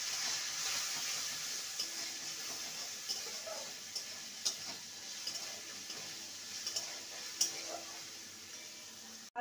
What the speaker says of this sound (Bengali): আদা বাটা দিয়ে ভালো করে নেড়ে নেব।